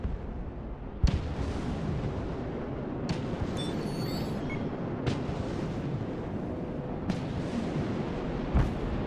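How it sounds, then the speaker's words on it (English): Bombs explode in the strategy game Broken Arrow as a series of sharp, heavy blasts a couple of seconds apart. A low, rumbling battlefield din and faint higher electronic tones fill the gaps between them. "You want bomb? I bomb."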